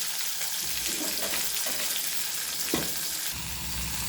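Pomfret coated in rava fries on a low flame, making a continuous close sizzle with a few soft knocks from the pan partway through.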